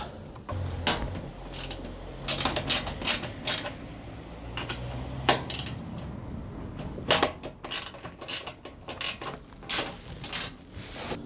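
Screws being undone from the wing of a Renault Twingo 1 with a hand tool: a series of sharp, close metallic clicks and short ratcheting bursts come in irregular clusters, with brief pauses between them.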